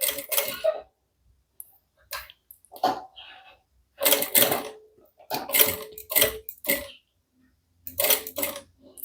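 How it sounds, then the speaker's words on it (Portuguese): A sewing machine runs short bursts of stitching to secure a zipper finish on a handmade bag, stopping and starting with quiet pauses between runs, close and clear with no talk. "Só passar uma costurinha aqui para prender o acabamento no zíper"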